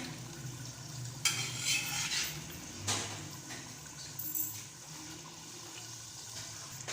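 Potatoes for a potato and chickpea curry tipped into a pan with dry coriander and stirred, a soft sizzle with scraping and rustling bursts as the pieces land and are moved around.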